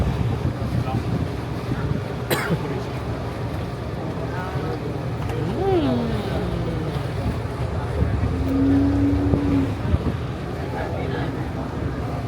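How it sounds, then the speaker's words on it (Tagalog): Boat ride on the lake near Bellagio, Italy, with a steady broadband rumble of engine and water under strong wind buffeting the microphone; faint voices are talking in the background throughout. "Yan, nasa boat kami."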